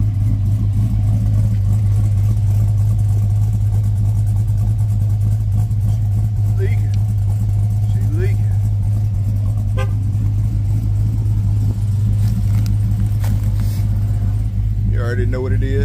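A Cadillac Escalade fitted with an LSX V8 engine idles with a steady, deep, close rumble throughout, while voices talk over it.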